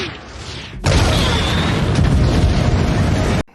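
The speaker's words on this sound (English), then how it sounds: "the Razor Crest died. It exploded." A loud burst from the explosion of a LEGO Razor Crest ship, a sudden broad crashing roar that starts abruptly, holds at a steady heavy level for about two and a half seconds, then cuts off sharply.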